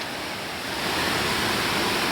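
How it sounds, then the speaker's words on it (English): A waterfall roars in a steady, full broadband rush, close and loud throughout, with no other sounds standing out. "We've made it down to the waterfall."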